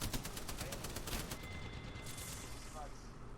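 Rapid gunfire in an online video game, dense overlapping shots rattling loudly for a couple of seconds before easing into a quieter tail.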